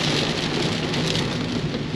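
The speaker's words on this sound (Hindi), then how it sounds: "यू कैन सी ज़बरदस्त बारिश हो रही है, वेरी हेवी रेन" Heavy rain pours down in Delhi, a dense, loud, unbroken hiss of drops on surfaces with a low rumble underneath, with no voices.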